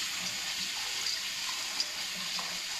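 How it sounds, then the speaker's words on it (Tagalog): Rice being washed in water, a steady faint wash of running and sloshing water with small splashes throughout, no talk. "Hugasan natin ng ligas hanggang malinis siya kasi masyado madumi."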